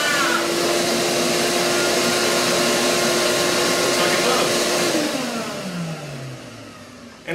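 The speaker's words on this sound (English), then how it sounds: "First up, this 12 amp shop vac. Will it power a shop vac?" A 12 amp shop vac powered by a cheap inverter runs loud and steady with a constant whining tone, then winds down as the motor pitch drops toward the end.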